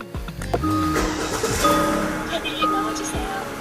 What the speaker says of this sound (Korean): 부드럽게 걸고 있는 시동 소리 들으실 수가 있습니다